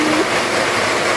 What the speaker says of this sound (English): we can hear the waterfall down in the trees down there